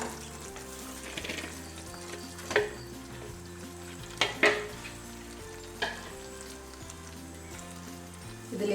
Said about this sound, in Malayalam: ഇനി നമുക്കിതിലേക്ക് പൊട്ടറ്റോ ചേർത്ത് കൊടുക്കാം.